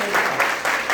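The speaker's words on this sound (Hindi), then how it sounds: "जोरदार ताली बजाइए।" Audience at a student honour gathering clapping in a short, dense burst of applause, close and fairly loud, swelling in waves over about a second.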